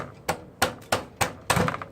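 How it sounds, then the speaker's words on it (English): Metal hammer blows on a part while a GY6 scooter engine is being removed, five sharp, close strikes at a steady rhythm, the last one longer and ringing, with no talking. "sort of like hammer it like this way."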